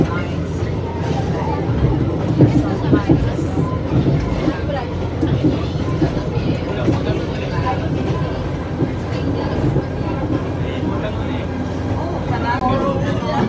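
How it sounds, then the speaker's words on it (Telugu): A train crosses on a mountain railway in Rio, Brazil, its steady rumbling roll and wheel clatter filling the scene while people talk over it. "క్రాస్ అవుతుంది ఇప్పుడు ఆ ట్రైన్ చూడండి, అటు పోతుంది."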